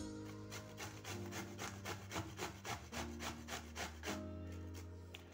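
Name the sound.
grating bottle gourd (lauki) on a grater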